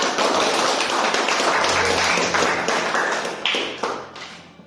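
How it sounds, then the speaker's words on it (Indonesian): A classroom group gives a round of applause for a student group after a science presentation on the digestive system, dense hand clapping that holds steady and then thins out into scattered final claps. "Kita beri tepuk tangan untuk kelompok."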